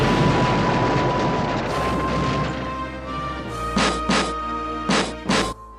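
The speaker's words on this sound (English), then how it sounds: "you hear and feel an explosion which seems to have come from behind the door" An explosion behind a sealed bulkhead door in the Space Quest 6 video game, a heavy boom that rumbles and fades, followed by several short sharp bursts of noise.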